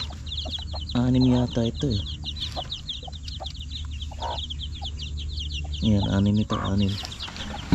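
Hens on a chicken farm where birds are laying and brooding give two bursts of rhythmic clucking, close and fairly loud, over steady background chirping and a low hum, while someone talks quietly between them.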